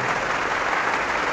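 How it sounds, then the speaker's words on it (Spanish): An audience at a live religious debate applauds a priest, a dense, even wash of clapping that stays steady throughout the short moment. "Aplauso pues para el padre, gracias padre."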